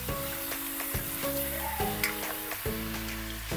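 More than a kilo of chicken pieces sautés in a pan with a steady sizzle and crackle, partly masked by sustained tonal music playing over it.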